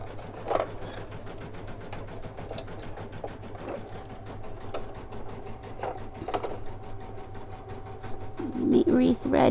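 An embroidery machine stitches a free-standing lace gnome ornament, its fast steady needle chatter running continuously at low level, with a brief louder rattle near the end.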